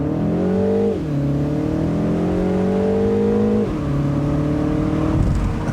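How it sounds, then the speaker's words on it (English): A 2025 Mini Cooper S Convertible accelerates hard from 0 to 60: a loud, close engine note climbs steadily, dips sharply at two gear shifts, then climbs again. "Let's go ahead and try a 0 to 60 time here."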